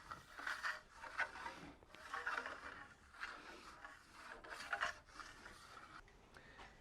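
A steel trowel blade rides its bevel across a Venetian plaster surface, giving repeated soft rasping, rubbing strokes at close range, with gentle pressure and no voices.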